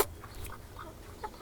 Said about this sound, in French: Ça, c'est mes poules pondeuses.